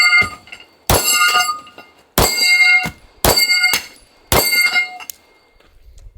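Four loud metallic clangs from 10mm handgun rounds striking a steel Texas Star target, each ringing and decaying before the next, spaced about a second apart with no talking.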